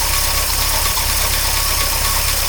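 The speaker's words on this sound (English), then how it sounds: "The exhaust is really loud, and I'm hoping to quiet it down, but the engine sounds really, really good" A 1953 Oldsmobile Rocket Super 88 barn-find engine runs with a very loud exhaust, a dense, steady, close idle rumble with an even, slightly knocking pulse filling the whole moment.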